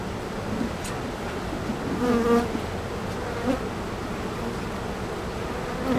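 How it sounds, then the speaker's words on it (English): Honey bees drone in a steady, dense buzz around an open hive in a beekeeping yard, close and continuous, with faint outdoor background and no talk. "I'm going to shake a frame of bees into the nuke."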